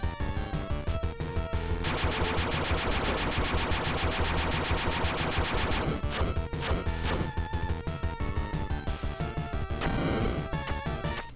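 Rapid, relentless bursts of heavy cannon fire and booming blasts from the 8-bit-style game Bloodstained: Curse of the Moon, loud and continuous, with a few sharp impacts near the end.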